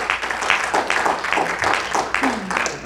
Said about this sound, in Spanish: Date fuerte aplauso, Señor,